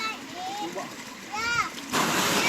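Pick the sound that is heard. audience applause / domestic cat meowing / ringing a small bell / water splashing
water splashing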